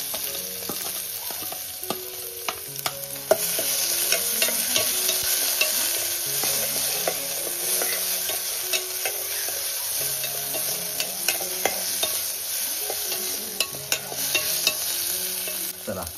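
Onion frying in a steel pot over a wood-fired village stove gives a steady crackling sizzle, with scattered scraping stirs and clinks of a utensil against the pot, no voices.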